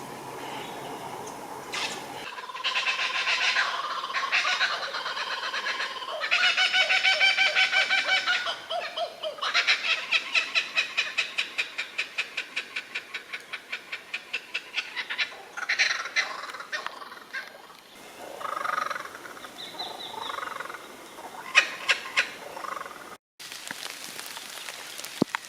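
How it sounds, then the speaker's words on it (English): Cockatoos call while flying overhead, a run of harsh, raspy squawks and rattling screeches in repeated bursts over a quiet outdoor background. "I'd heard cockatoos flying overhead, their calls sounding like mini pterodactyls."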